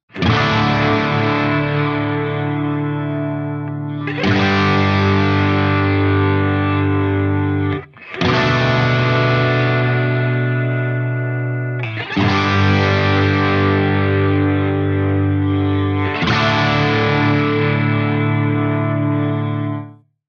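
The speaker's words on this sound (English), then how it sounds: "I've got this wow flanger, but I did a lot to that to give it a bit of stereo width" Sustained electric guitar chords through an Eventide H90 flanger, restruck every few seconds, with a sweeping, whooshing flanger effect and wide stereo shimmer.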